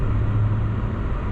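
Acura TLX Type S on Pirelli P Zero summer tires pulling along a plowed, treated street with a dusting of snow: a steady, close low engine-and-road drone that holds level throughout.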